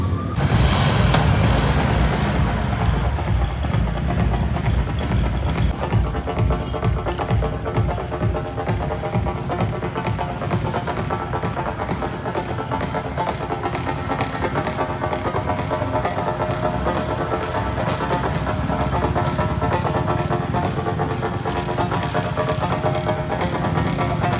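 Motorcycle engines rumble steadily and loudly for the whole stretch, idling and revving as several bikes pull away together in a line at a Suzuki motorcycle festival, with no voices.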